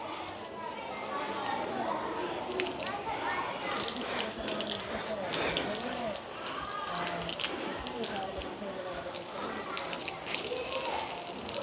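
Water gushes from a tap opened fully, a steady broadband rush running the whole time beneath people talking.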